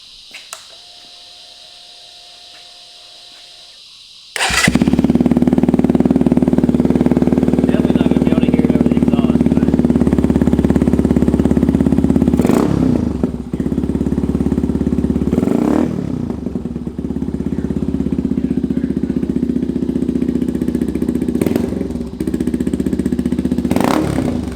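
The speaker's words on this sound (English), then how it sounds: "we're gonna start the bike for the first time with the new intake" A Benelli TNT 135 motorcycle fitted with a Chimera intake fires up after a few seconds of near silence, then runs loud and steady close by, with several brief throttle blips.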